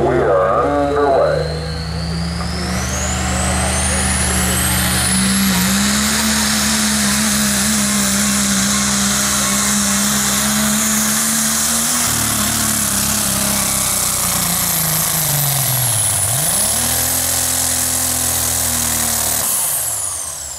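Diesel trucks race on a dirt track in Lancaster, Kentucky, a loud, sustained engine roar with revs climbing, dipping sharply near the end and surging again, while an announcer's voice sits faintly underneath.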